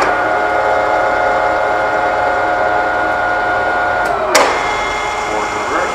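A Doall D5100R radial drilling machine runs with its spindle turning slowly at 44 RPM, giving a steady mechanical hum and whine with one brief sharp clack near the end.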